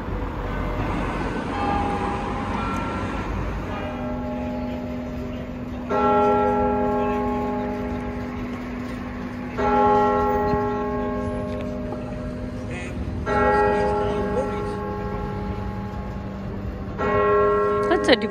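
Bells peal in repeated bursts of ringing, each strike leaving a long sustained tone, with several loud clusters spaced a few seconds apart over a steady hum and some background murmur.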